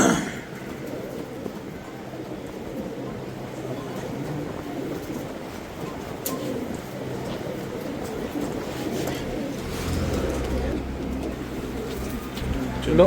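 Soft, low cooing of Madrasi pigeons under a steady background rumble, with a faint voice and occasional fluttering noises.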